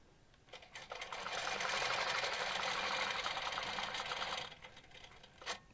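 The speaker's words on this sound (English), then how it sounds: "Just stitching that half a circle, that clamshell." A quilting sewing machine stitching a clamshell pattern along a ruler gives a steady, fast whirring run of stitches for about four seconds, fairly faint, then slows and stops with a small clack.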